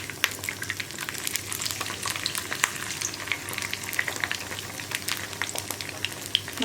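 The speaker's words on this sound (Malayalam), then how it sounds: "മീനിൽ നന്നായിട്ട് മസാല പൊതിഞ്ഞിരിക്കുന്ന രീതിയിൽ വേണം നമ്മൾ മീൻ വെച്ച് കൊടുക്കാനായിട്ട്" Masala-coated vatta fish frying in hot oil in a small pan, a steady close crackle with dense popping spatters throughout, no voices.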